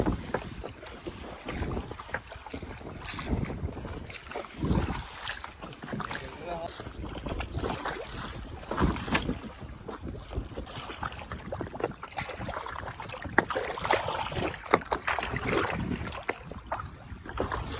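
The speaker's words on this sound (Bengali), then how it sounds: "নদীতে কিন্তু এখন প্রচুর হাওয়া আর ঢেউ হচ্ছে আর আমরা নৌকা নিয়ে সামনের দিকে এগোচ্ছি" Wind buffets the microphone as a boat moves along a river with strong wind and waves, gusty rushing noise with splashes and occasional voices.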